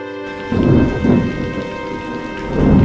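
Heavy rain pours steadily on a surface while thunder rumbles loudly in repeated rolling bursts, close and continuous throughout.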